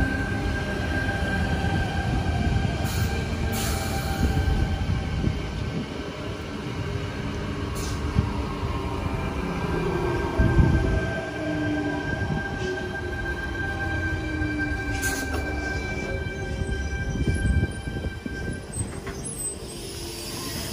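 A Sydney Trains T set pulls into a suburban station platform, its steady rolling rumble and rail noise holding loud and continuous throughout, with a faint high squeal and no voices.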